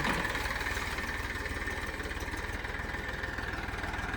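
An empty tractor idles in a wet, muddy field, its engine running at a steady, close, low throb with an even rhythmic pulse and no voices.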